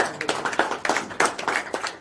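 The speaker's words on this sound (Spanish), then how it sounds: "Un aplauso." A small audience at an introductory sport-flying school talk gives a brief round of applause. The clapping is quiet and sparse, with a few irregular claps over about two seconds.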